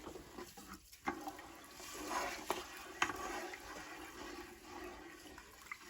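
Water sloshes and swirls inside a rice cooker pot as salt is stirred in with olive oil, a soft, steady watery churning with a few light knocks, close by and without speech.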